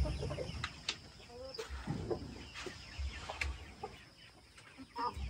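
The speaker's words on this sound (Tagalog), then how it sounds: "Rhode Island Red." A Rhode Island Red chicken clucking on a backyard farm, with short scattered clucks and fowl calls at moderate distance over low background noise.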